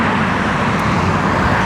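Steady, loud road traffic of passing cars in a city street in Daegu, recorded while moving, a continuous broadband roar with no speech.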